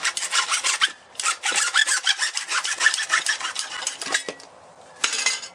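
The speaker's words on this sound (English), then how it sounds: "The secret to cutting PVC basically is that you just need a really good hacksaw." A hacksaw cuts through PVC pipe in steady, fast back-and-forth rasping strokes, close and loud, with a brief pause partway through and a final burst of strokes at the end.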